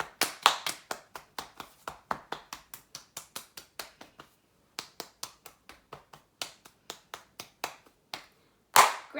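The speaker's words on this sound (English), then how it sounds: "Clap on the shoulders and the back." Hands pat and clap on the shoulders and back in a quick, even rhythm of sharp slaps, pausing briefly midway and then resuming with a louder final clap, all close up and with no talking.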